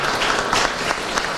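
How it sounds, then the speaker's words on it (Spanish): Applause for a commissioner at an official public event, a steady burst of clapping from an audience throughout, loud and close. "Bueno, un aplauso para el comisionado."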